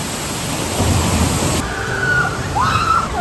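A log flume ride at Phantasialand sends water splashing and spraying loudly and steadily over the riders, with brief high voices rising through the rush of water.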